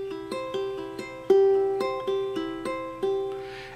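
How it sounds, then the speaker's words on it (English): Ukulele played in a forward-direction triplet finger-picking pattern, clean plucked notes repeating in a steady rolling rhythm, close and alone. "a triplet finger picking pattern"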